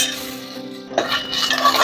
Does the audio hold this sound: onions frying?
yes